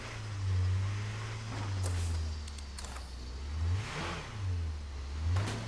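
A kind-of-broken car in State of Decay 2, its mid-pitched engine revving up and down in several swelling waves, loud and close with no voices over it.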